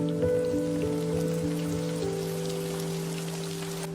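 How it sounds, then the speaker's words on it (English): Steady rain falls on a surface, close and constant, over a low sustained drone of tonal hum with no voices. "The rain starts falling again."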